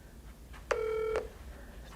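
A cell phone places a call to an intercom, giving one clear electronic dialing tone about half a second long, close and isolated over a faint background hum.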